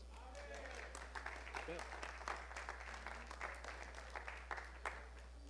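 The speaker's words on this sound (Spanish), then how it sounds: "Un aplauso a Cristo, hermanos" A church congregation at a Sunday school service claps together in steady, moderately loud applause, with a voice talking over it.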